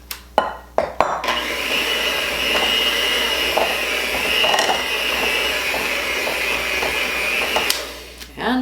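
An electric mixer whirs through sugar shortbread cookie dough in a bowl, a loud steady motor drone lasting several seconds after a few clunks at the start, then cutting off.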